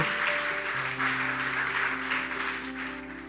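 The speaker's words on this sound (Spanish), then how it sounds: "Dele un fuerte aplauso al Señor." A church congregation claps loudly and continuously for a few seconds during a Lord's Supper service, dense applause over a sustained low musical tone.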